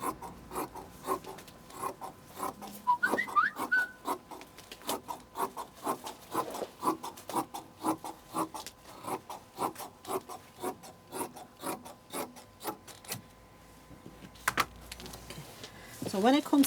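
Scissors snip through a paper template for an Anarkali dress in a long run of quick, close, fairly faint rasping cuts, with a voice heard briefly near the start.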